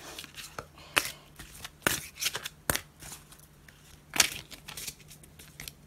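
A deck of tarot cards is shuffled by hand, close and crisp, with a series of irregular riffles and snaps and softer handling rustles between them.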